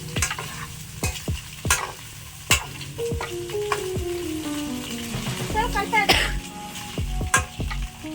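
Fried eggs and onions being stirred in a pan, with repeated sharp scrapes and clacks of a spoon on metal over a steady sizzle, close and fairly loud, with some faint background sounds.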